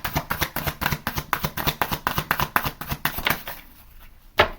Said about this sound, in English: I didn't realize I was shuffling with this deck